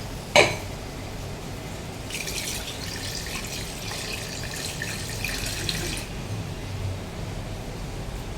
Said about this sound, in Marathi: असं हे वाटण मिक्स करून याच्यामध्ये पाणी टाकून शिजवणार आहोत